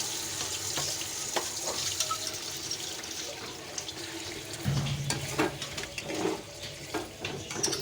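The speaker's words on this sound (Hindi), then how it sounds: "अब हम दही डालकर इसको चलाएंगे और इसके अंदर हम मसाले डालेंगे।" Beef korma with yogurt fries and is stirred in a pot, giving a continuous close sizzle with intermittent scraping strokes and a wetter bubbling after the yogurt goes in, with no talking.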